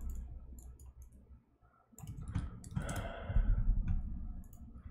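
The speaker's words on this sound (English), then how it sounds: "Typing that list." Someone types on a computer keyboard in quick, light bursts of clicks. Close and fairly quiet, with a short pause partway through and no talking.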